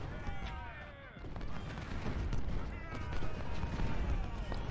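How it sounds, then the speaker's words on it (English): Artillery and gunfire in the Civil War video game Ultimate General, a dense, continuous rumble of cannon and musket volleys with scattered sharper cracks, sustained throughout at moderate level. "especially all this artillery"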